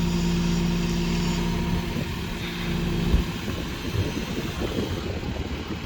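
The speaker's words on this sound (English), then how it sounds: "that Kubota's just idling" A Kubota SVL compact track loader idles nearby, a steady low diesel rumble running throughout with a slight bump around the midpoint.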